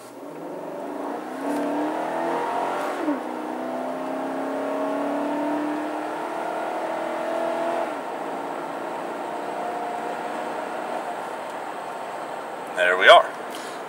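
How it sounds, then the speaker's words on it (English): A 2014 GMC Sierra 1500 4x4 pickup with a 5.3L Vortec V8 accelerates hard from inside the cab, its steady engine drone rising in pitch over about ten seconds, then a brief clunk near the end. "I am going to go ahead and give you a harder acceleration."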